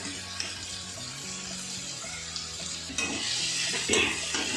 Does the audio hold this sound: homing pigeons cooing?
no